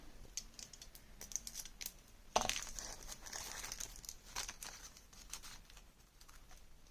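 Scissors snip paper for a handmade journal with a brad fastener hinge, giving a series of quick crisp cuts and rustles, one louder crinkling burst midway.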